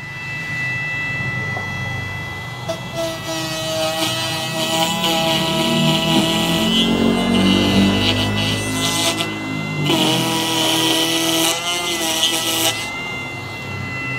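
A Dongcheng DCMP6BP router fitted with a straight bit runs steadily at speed 1, a loud, continuous high motor whine with slight shifts as it works.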